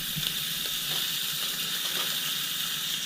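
Salted ribeye steak searing in a hot pan, a dense steady sizzle and crackle of hot fat, close and loud throughout with no talking.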